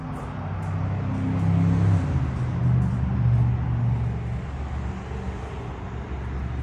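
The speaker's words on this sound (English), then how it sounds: "As you see, I'm right next to the highway, so sorry about the traffic noise." Highway traffic noise from beside a busy highway, a continuous low rumble of passing vehicles swelling and fading as individual cars and trucks go by, with no talking.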